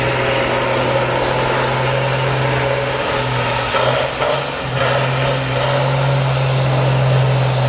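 Toyota race truck revving hard during a burnout at a truck racing event, a loud sustained engine roar with rising and dipping revs, heard close and alone without talk.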